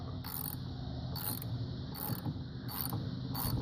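A ratchet loosens a bolt on the chain case of a Polaris Edge 800 snowmobile, giving five evenly spaced bursts of close, crisp clicking over a steady background.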